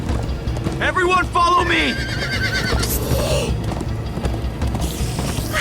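Horses whinny and clatter along at a gallop in the video game Minecraft: Story Mode, loud neighs and quick clip-clop hoofbeats with a voice shouting over the action.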